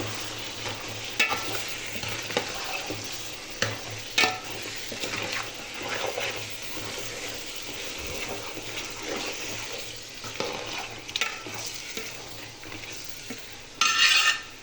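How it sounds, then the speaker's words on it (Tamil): Meat being stirred in a pan while cooking biryani, with a steady sizzle and scraping under it and a few louder clinks of the spoon against the pan. "அளவுக்கு கறி போட்டுட்டு நல்லா கிண்டி விட்டுக்கலாம்"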